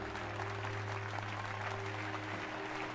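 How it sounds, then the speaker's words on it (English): Steady crowd applause in Final Fantasy XIV: Dawntrail runs continuously, holding an even level over sustained background music with no speech. "Clap, clap, clap."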